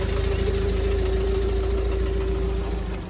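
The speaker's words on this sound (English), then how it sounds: "You're looking at a Land Rover 9300 TDI." A Land Rover 300 TDI diesel engine idles close by, giving a steady, even rumble with a constant low hum and slight knock that holds for the whole stretch, with no talking.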